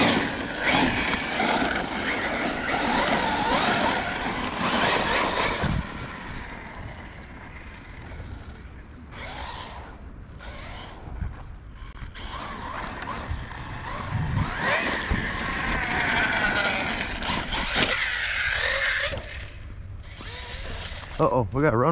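A Team Corally Asuga RC buggy rips around with a loud, continuous electric motor whine that surges and dips as it accelerates, with brief pauses and revs throughout and occasional voices over it.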